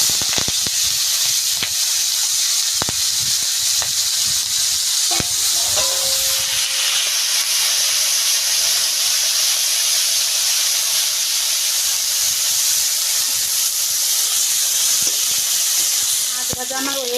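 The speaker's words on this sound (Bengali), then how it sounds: "তেলটা আমার খুব সুন্দরভাবে গরম হয়ে গিয়েছে। এখন আমি চিংড়ি মাছগুলো দিয়ে দিচ্ছি।" Prawns frying in hot oil in a kadai, a loud, continuous close sizzle and hiss with occasional sharp spatters and clinks, running steadily throughout.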